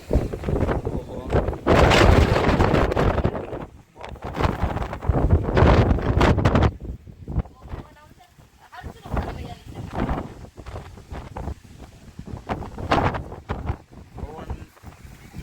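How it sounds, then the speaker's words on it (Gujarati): Strong wind during a rainstorm buffets the microphone in loud rumbling bursts, easing and returning, with a person talking intermittently through the wind. "બહુ પવન છે વાતાવરણ"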